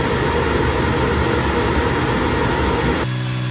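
An 80 watt CO2 laser engraver running, giving a loud, steady rushing roar of fans and air flow, which cuts off near the end to leave a quieter, lower hum.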